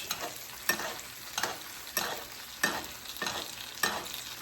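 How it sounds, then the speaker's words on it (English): Ribeye steak sizzles in a hot pan with garlic while being basted, a steady frying hiss broken by rhythmic spoon scoops about every half second, close and soft, with no talk. "Put our garlic up there so nothing burns. And then we baste."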